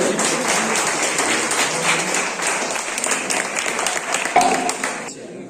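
Audience applause at a municipal meeting in Hooghly Chinsurah, a steady broadband clatter of many hands clapping throughout, fairly close and loud, thinning out near the end.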